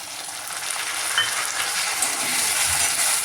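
Tomatoes go into a pan of frying garlic, setting off a loud, steady close-up sizzle with a few faint clinks and stirring sounds, and no talking.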